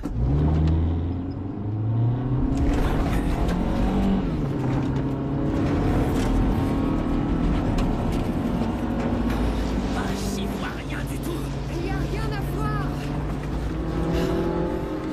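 A car speeds down a road in a French horror film, its engine drone steady and loud throughout while tense voices talk over it.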